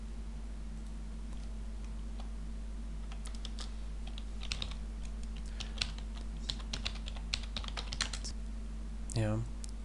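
Typing on a computer keyboard, a steady run of light clicks over a constant low hum, with a brief squeaky rising sound near the end.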